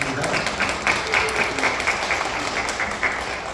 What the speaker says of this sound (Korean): 우리 박수를 하나 하겠습니다